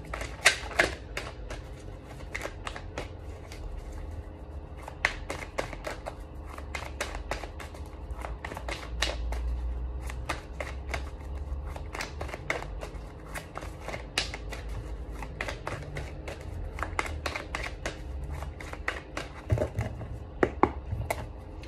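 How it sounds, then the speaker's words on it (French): A tarot card deck is shuffled steadily by hand before a single card is drawn, giving a long run of crisp, close card flicks and riffles with no talking. "on prend un tarot et on prend qu'une seule carte"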